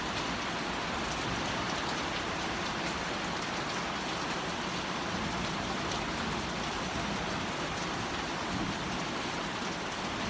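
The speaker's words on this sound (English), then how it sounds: "I thought I'd come back and show you that it started to rain and how beautiful it is" Rain pours steadily onto a garden during a storm, a dense, even hiss of drops that continues unbroken with no voices.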